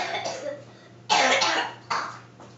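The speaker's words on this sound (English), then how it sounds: "I know you hear the cough in the background" A child coughs a few times, one soft then two louder bursts, from a distance in an otherwise quiet room with a low hum.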